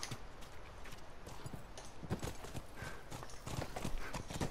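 Horse hooves clip-clopping in the video game The Last of Us, a quick, steady run of close hoof strikes with faint movement noise beneath.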